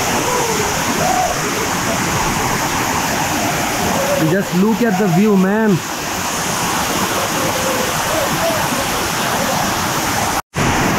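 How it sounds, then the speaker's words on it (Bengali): Prut Waterfall near Cherrapunji, Meghalaya, roars as a steady, loud broadband rush of falling water from start to end, with someone briefly speaking over it in the middle. "দেখেন ঝর্ণার এতটা প্রেশার, ঝর্ণা থেকে সমানে পানির মেঘ যাকে বলে এদিকে ফ্লো হচ্ছে"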